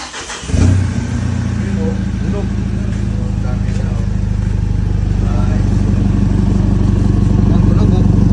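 A car engine, fitted with an ECU remap and a full fabricated exhaust, fires up and settles into a loud, deep, steady drone that builds slightly in intensity, with voices faintly beneath it.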